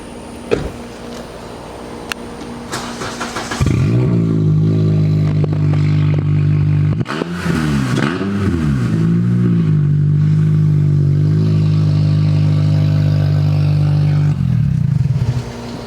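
A Honda Accord engine fires up with a rumbling cat-back exhaust and a blown flex pipe, blips through a quick rev, then settles into a loud, steady drone before shutting off.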